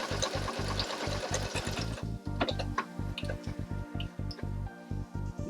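A domestic sewing machine runs an automatic buttonhole on a half placket, its needle chattering in rapid bursts of stitches with brief pauses between, close and steady throughout.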